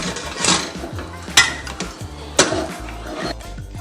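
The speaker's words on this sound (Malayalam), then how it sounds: "കുക്കർ അടച്ച് വെക്കാം." A pressure cooker holding three potatoes is closed on the stove in a home kitchen, with a few sharp metallic clanks and scrapes of the lid, two louder knocks standing out, and no talking.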